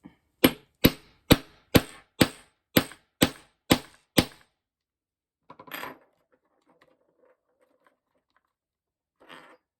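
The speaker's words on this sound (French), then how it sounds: "Et ensuite, je viens donner des petits coups de marteau." A hammer taps a binder ring mechanism into place on a painted cover, nine crisp, evenly spaced metallic knocks, then a few faint handling clatters.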